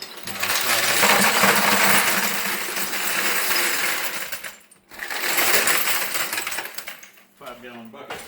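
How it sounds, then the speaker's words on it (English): Ice cubes pour noisily into a 5-gallon bucket, a loud clattering, rattling rush that dips briefly and resumes, with clinking tumbling at the end and a voice speaking faintly underneath. "we're going to put a whole bunch of ice in our"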